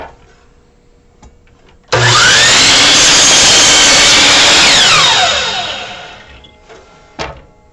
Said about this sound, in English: I can take this over to the miter saw and I can cut right on top of that mark